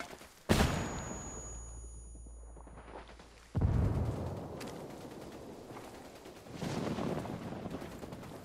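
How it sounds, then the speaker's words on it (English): A flashbang grenade in the game Between The Wildlands goes off with a sharp loud bang, followed by a ringing tone, then another heavy blast and a later rumbling burst. "Lobbing the flashbang."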